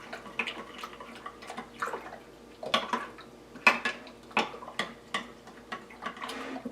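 A utensil clinks and scrapes rhythmically against a bowl while yeast and sugar are stirred together for focaccia dough, a run of close, sharp taps with brief pauses and no talking.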